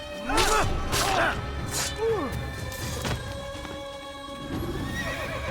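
A horse in the Assassin's Creed video game whinnies several times, its calls rising and falling over thudding hoofbeats and game sounds.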